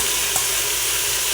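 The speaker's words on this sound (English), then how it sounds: "So I'm going to add the Moong Dal. So this is rinsed and drained Moong Dal." Rinsed, drained moong dal hits frying garlic in a pan with a loud, close, steady sizzle that barely changes throughout, with one faint tap near the start.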